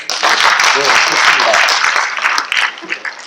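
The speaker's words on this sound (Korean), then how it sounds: "크게 박수 한번 칠까요?" A crowd claps together in a steady burst of applause at the launch ceremony of a Gwangju organization's headquarters, with a voice speaking over it at times.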